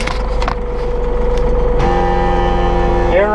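Massey Ferguson 4600M tractor cranking and firing up, a steady low diesel rumble that jumps into a louder, fuller idle with a rising whine near the end, heard close and alone.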